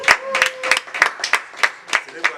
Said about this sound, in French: Beaucoup d'applaudissements pour Amadou Bouna, un ami qui vous veut du bien.